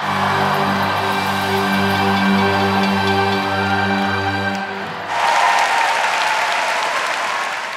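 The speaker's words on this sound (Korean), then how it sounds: "캄보디아와 홍콩 그리고 한국의 젊은이들 큰 박수로 환영합니다." A large crowd applauds warmly to welcome young people from Cambodia, Hong Kong and Korea at a gathering during the Pope's visit to Korea. The dense clapping starts under a sustained musical tone and then continues loud and alone.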